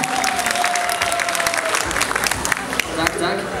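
Sustained applause from a sizable school audience welcoming a teachers' team on a quiz show, loud and continuous, with a few sharper claps and cheers standing out near the end.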